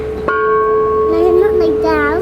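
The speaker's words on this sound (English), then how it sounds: "And bang a bell." One sharp strike on a bell, followed by a steady ringing tone that sustains under people talking and reacting nearby.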